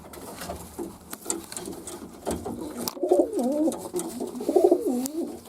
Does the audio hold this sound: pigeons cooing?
yes